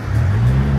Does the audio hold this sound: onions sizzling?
no